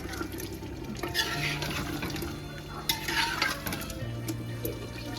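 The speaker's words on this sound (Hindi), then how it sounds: "अब इसको भूनें अच्छे से, आलू और गोश्त को इकट्ठा थोड़ी देर के लिए भूनें।" Potatoes and mutton for aloo gosht are fried together in a pot and stirred. A spoon scrapes and knocks against the metal over a steady sizzle, close and fairly soft, with no talk.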